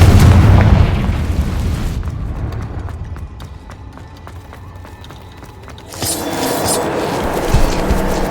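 A Confringo fire spell bursts in Hogwarts Legacy with a loud, booming blast that fades into a quieter rumbling stretch, before a second heavy burst swells back up near the end.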